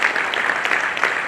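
An audience at the 9th National HR Conclave 2025 welcomes Admiral Dinesh Tripathi with applause: a dense, even wash of clapping, fairly loud and close, with no clear speech over it.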